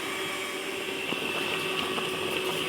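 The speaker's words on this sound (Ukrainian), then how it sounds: "вже моя маса кипить, мій майбутній кетчуп" A steady bubbling simmer of thick homemade tomato ketchup in a pot, with soft pops and a continuous hiss, close and even throughout.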